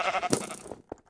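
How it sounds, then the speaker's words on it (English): A Minecraft sheep gives a short, wavering bleat in the video game, followed by a brief softer blip, loud and close with no talk over it. "Oh, sheep, come with me"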